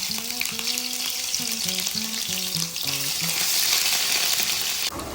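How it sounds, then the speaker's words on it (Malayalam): Mustard and fenugreek seeds spluttering in hot oil at the start of a mango pickle, a loud, steady crackling sizzle that runs throughout with music playing over it. "അതിലേക്ക് ലേശം കടുകോ പിന്നെ ലേശം ഉലുവയും ഇട്ടാണ്ട് ഒന്ന് പൊട്ടിച്ചെടുക്കുക."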